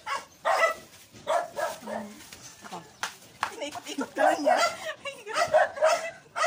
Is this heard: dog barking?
yes